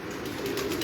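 Pigeons at a pigeon breeding setup coo softly, a short low murmur rising near the end against steady background noise.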